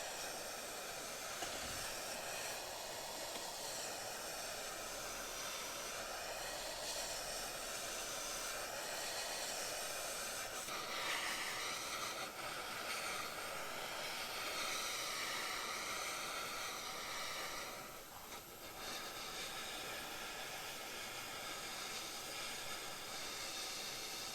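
Steady, broad steam hiss from steaming the top of a 1962 Harmony guitar, continuous and fairly close, dipping briefly near the end, with no talk.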